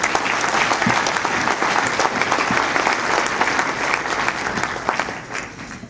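A large audience applauds steadily at a thank-you event for businesses supporting a university design/build lab, dense continuous clapping with no pause.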